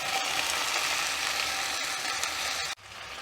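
Pre-cooked chicken drops into a pan of simmering chicken stew, setting off a loud, steady sizzle that cuts off abruptly near the end.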